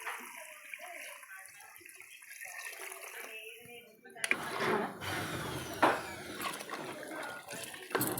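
Water, about a litre and a half, pours into a cooking pot of goat head curry, a loud rushing splash beginning partway through after quieter kitchen noise, with a voice speaking over it.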